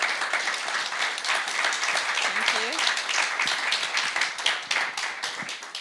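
Applause at a press conference with two speakers, a steady patter of hands clapping for about six seconds, with voices and murmuring mixed in underneath.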